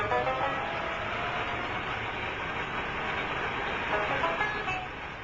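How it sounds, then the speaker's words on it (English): A Pinzgauer off-road vehicle on a test drive, its engine a steady mid-pitched rumble running continuously at a moderate distance, fairly even throughout with a slight fade at the end. "Test drivers then thoroughly try out the behavior of these vehicles in all driving situations."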